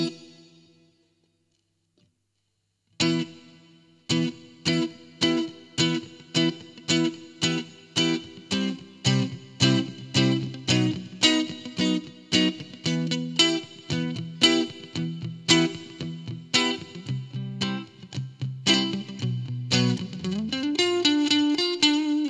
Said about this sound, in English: the Roommate Junior is a really nice sounding reverb